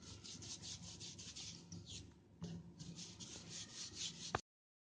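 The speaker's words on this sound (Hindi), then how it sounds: "इसको हम बेलेंगे" A rolling pin rolls nacho chip dough back and forth on a wooden rolling board, making a steady rhythmic rubbing and scraping close by with short pauses between strokes.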